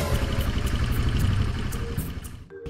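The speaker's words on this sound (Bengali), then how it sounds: "রয়্যাল এনফিল্ডের শব্দ বাজছে" A Royal Enfield motorcycle engine thuds close by in a steady, loud rhythmic idle, cutting off abruptly near the end.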